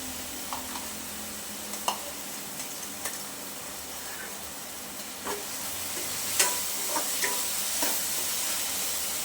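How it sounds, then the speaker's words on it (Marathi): Raw spice paste for a chickpea curry fries in oil in a pan, a steady soft sizzle with scattered small pops and occasional scrapes of a spoon stirring, fairly close and without voices. "आपण वाटण छान असं परतून घेणार आहोत तेल सुटेपर्यंत व्यवस्थित अगदी"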